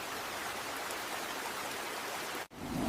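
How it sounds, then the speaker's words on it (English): Steady rain falls in a dense, even hiss, close and constant, with a brief dropout near the end before it resumes. "I love the sound of rain."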